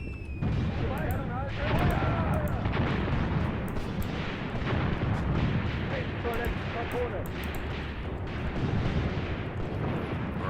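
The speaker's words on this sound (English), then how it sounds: "And finally, Rosenbaum is firing." Tank guns fire in a WWII winter battle in the strategy game Graviteam Tactics: Mius Front, with repeated booming shots and rumbling explosions over continuous battlefield noise, while someone talks throughout.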